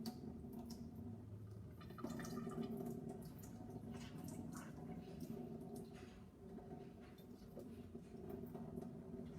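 Tap water runs over an opened tuna can as it is rinsed in a home kitchen. It is a faint, steady splash with light drips, heard at a low level.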